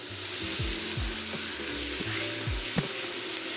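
Ginger garlic paste and slit green chillies fry in hot oil for egg biryani, giving a steady close sizzle with a few soft spoon clinks and stirring knocks against the pan.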